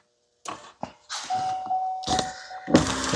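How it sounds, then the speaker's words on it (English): Chime of a 2020 GMC Yukon door left open: a steady electronic tone sounding in repeated pulses, mixed with nearby handling noise and soft thumps from work on the front door window. "Enjoy that GM door chime."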